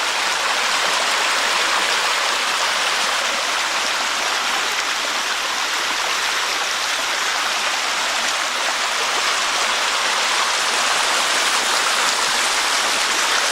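Water pours over the dam breast of a man-made waterfall in a state park, a dense and steady rushing roar that stays loud and unbroken throughout, with no voices.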